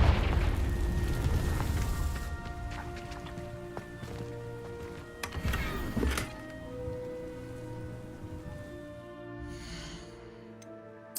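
A Confringo spell explosion in a Harry Potter video game: a loud booming blast up front that decays into rumbling debris, followed by scattered crackles, a second sharp burst and a fading magical shimmer.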